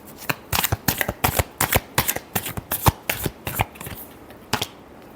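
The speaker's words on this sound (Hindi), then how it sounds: "last shuffle" Tarot cards being shuffled close up, a fast run of crisp riffling bursts with brief pauses between, fading toward the end.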